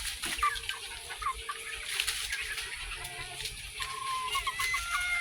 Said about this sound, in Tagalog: Dami pang manok.